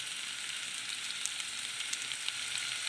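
Onions and ginger paste frying in hot oil with green chillies, a steady hissing sizzle close by with a few faint crackles, no voices.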